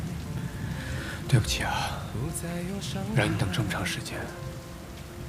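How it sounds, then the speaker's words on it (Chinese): Heavy rain falls as a constant hiss beneath a soft, close conversation between two people, with the downpour steady throughout and never letting up. "还下这么大雨"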